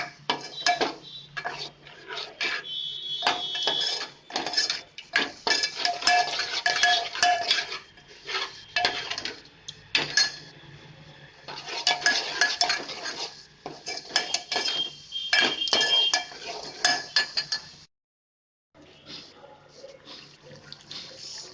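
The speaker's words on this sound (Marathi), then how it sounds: "आता त्याच्यात आपण अर्धी वाटी दही टाकूया" Metal utensils clink and scrape against a pan as half a bowl of yogurt is stirred into roasted masala for Kolhapuri pandhara rassa, a white mutton curry. The clatter is busy and close, with a short pause near the end.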